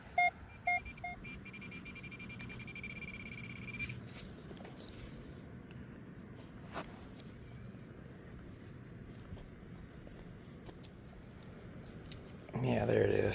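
A metal detector sweeps the dirt of a local park baseball field and rings up on a buried penny with a reading in the upper 70s: three short, clear beeps at the start, then a steady tone that fades out, with outdoor rustle and wind underneath.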